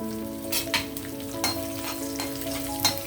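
Tempering spices and dried red chillies frying in oil for dal, a steady close sizzle broken by several sharp stirring scrapes spaced through the clip, with no voices.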